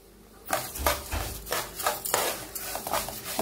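Liver and onions sautéed in a pan, with repeated scraping and clanking of a utensil against the metal and faint sizzling, close and irregular, no voices.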